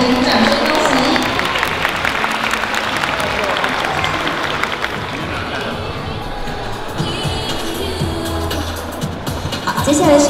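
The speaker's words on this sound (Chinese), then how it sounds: "那也再次邀请大家用你的掌声祝福我们台上的幸福大家庭，掌声恭喜" Dense, steady applause from wedding guests at a banquet, congratulating the family on stage, filling about ten seconds with a slight swell at the end.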